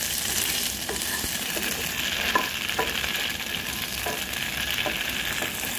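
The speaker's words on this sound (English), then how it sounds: "make sure you roast it fairly well, but not too much" Smoked tofu roasting in a pan, a continuous close sizzle broken by a string of light, irregular stirring scrapes and taps, with no one speaking.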